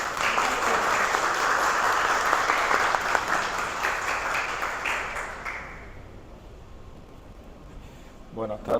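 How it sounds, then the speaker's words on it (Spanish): Loud, dense applause from a crowd carries on for several seconds, then fades out, leaving a quiet room with a brief sound at the end. "vamos a recibir con un fuerte aplauso"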